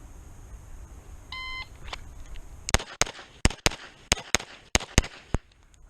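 A shot timer buzzer at a shooting range gives a short high beep, followed by a rapid string of about nine sharp, loud pistol shots from a Beretta 92 Elite LTT, fired close by in a fast, fairly even rhythm.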